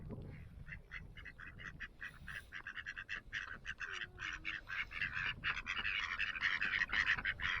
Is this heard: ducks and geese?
yes